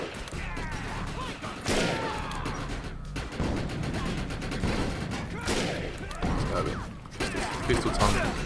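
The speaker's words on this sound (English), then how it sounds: "Explosions everywhere." Rapid bursts of gunfire and repeated booming explosions in the PC game Defiance fill the clip, loud and continuous with brief pauses.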